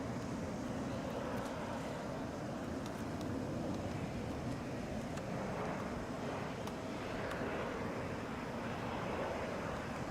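An Endeavor Air Delta Connection airplane touches down at Atlanta International Airport, a steady, broad roar of jet engine and rushing air heard from a distance with no distinct impact, continuous throughout.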